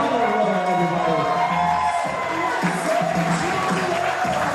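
Wedding guests clapping and cheering, a steady crowd roar with whoops and shouts that carries throughout without letting up.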